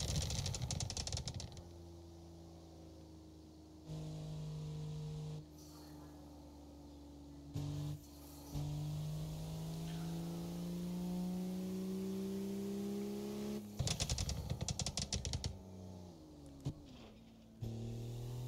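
A BMW M240i's engine drones and revs on a road in Japan, steady pitch rising and falling through gear changes, with loud bursts of acceleration at the start and later on.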